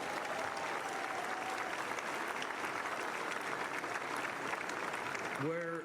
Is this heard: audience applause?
yes